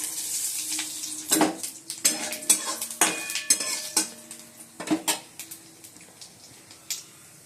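Eggplant and black cumin frying in a little oil in a wok, with sharp metallic clatters and scrapes of a utensil in irregular bursts over a faint sizzle.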